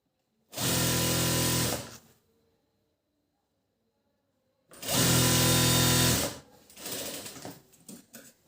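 An electric sewing machine stitches a blouse lining in two loud close bursts of about a second and a half each, separated by a quiet pause, followed by a softer, uneven run.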